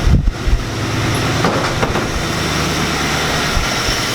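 An abandoned junkyard truck's engine runs on the fuel left in its carburetor bowls after 13 years of sitting, giving a steady, loud, rough rumble with a few sharper knocks near the start.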